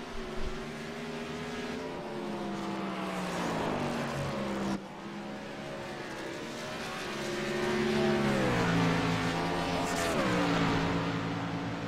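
A race car lapping a race track, its engine tones rising and falling through gear changes and revving as it passes, moderately distant and continuous.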